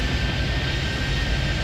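Jet airliner engines roar steadily at takeoff power in the Airport Madness 3D airport game at JFK, a loud, dense, continuous wash of engine noise with no pauses.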